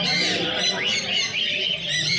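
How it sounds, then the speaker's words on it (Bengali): Caged birds squawk and chatter continuously at a street market selling birds and pets, a dense, shrill chorus of many birds close by with no clear pauses. "বিভিন্ন পাখি বিক্রি হচ্ছে"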